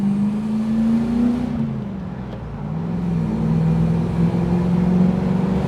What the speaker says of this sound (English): That lovely V8 just burbling away.